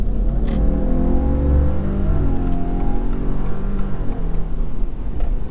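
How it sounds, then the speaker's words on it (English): A 2022 Subaru Outback Wilderness with a 4-cylinder boxer engine and CVT accelerates, giving a continuous whine with rising tones over a loud, steady engine rumble heard from inside the car. "Unmistakable whine from that CVT there"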